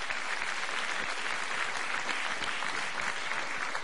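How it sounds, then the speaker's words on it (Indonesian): Dense crowd applause for President SBY at the presidential inauguration of Jokowi, a continuous wash of clapping from many hands, loud and sustained throughout. "Kita berikan tepuk tangan untuk Presiden SBY."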